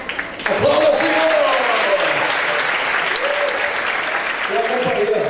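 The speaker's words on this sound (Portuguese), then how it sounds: "Aplauda, Senhor!" Strong applause from a church conference audience runs throughout, with a voice speaking over the dense clapping at several points.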